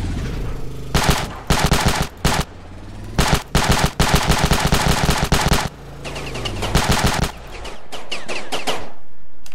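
Rapid automatic gunfire in the Ravenfield video game, loud close bursts of machine-gun shots repeating in several volleys with brief gaps, ending in a sustained rumble.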